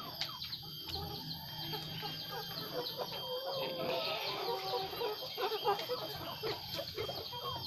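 Several 16-week-old laying-hen pullets cluck and murmur steadily nearby, soft overlapping calls over a constant high-pitched hum.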